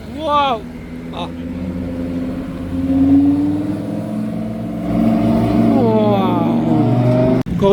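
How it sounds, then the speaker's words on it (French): A Cannon Run rally car arrives on a Monaco street, its engine note rising and building steadily to a loud, sustained pass close by, with excited voices talking over it throughout. "Encore une voiture du rallye, du Cannon Run qui arrive."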